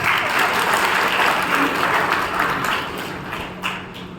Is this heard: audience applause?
yes